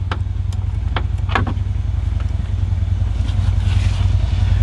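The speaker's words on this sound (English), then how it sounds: "Neighbor's getting ready to take off in his Harley" A neighbor's Harley-Davidson motorcycle idles with a steady low engine rumble close by, clattering and scraping over it, its revs rising slightly toward the end as it gets ready to leave.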